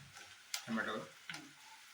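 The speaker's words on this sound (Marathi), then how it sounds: "नंतर टोमॅटो भाजून घ्यायचं" Tomatoes hit hot oil in a home kitchen pan while making suji upma, a soft sizzle with two sharp clinks of a spoon stirring, faint and close with a voice briefly underneath.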